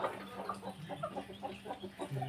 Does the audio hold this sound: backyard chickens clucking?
yes